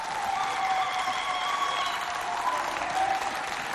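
Audience applause at a cultural diversity festival show in Chad, a steady dense wash of many hands clapping throughout, moderately loud with a faint crowd murmur.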